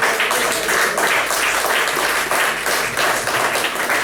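A church congregation at a Spanish-language sermon bursts into dense, loud applause, a thick continuous wash of clapping that holds steady for the whole stretch.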